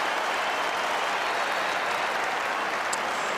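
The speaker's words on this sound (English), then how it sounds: "the Melbourne crowd have something to cheer about" A Melbourne football crowd at a 2013 AFL home game against GWS cheering after a Melbourne goal, a steady, dense roar of applause and voices filling the whole stretch.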